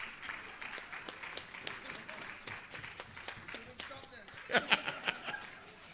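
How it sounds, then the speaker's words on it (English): Audience clapping at the regional launch of a Caribbean fisheries-justice hub in Jamaica, scattered and rather faint, with a few louder claps near the end, along with light chuckles and murmured crowd voices. "we should clap them for that. The louder the clap, the more the funding we get"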